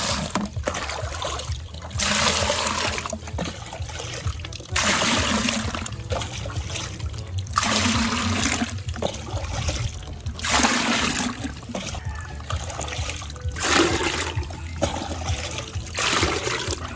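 Water trickles and splashes in bursts, poured or scooped repeatedly onto a concrete slab to keep it from cracking, with short pauses between, close by and fairly steady.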